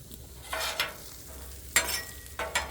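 French fries frying in oil, a steady low sizzle broken by several brief louder bursts of crackling and stirring, close and moderately loud, with no talking.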